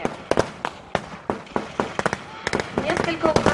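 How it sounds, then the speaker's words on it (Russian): Artillery fire and explosions crack in quick irregular succession, some loud and close, others distant, like a battle soundscape with shouting faintly underneath. "В бой вступила артиллерия."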